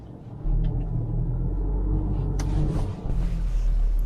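A 2020 Toyota Hilux creeps slowly over rough dirt ground at about 1000 rpm, its steady low engine rumble close and continuous, with a brief thump of the body jolting over a bump partway through.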